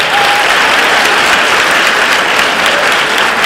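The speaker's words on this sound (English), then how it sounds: "Give yourself a round of applause because you have certainly earned it." Loud, sustained applause filling the room at a CNA recognition ceremony as graduating students clap for themselves, a dense even roar of hands from start to finish.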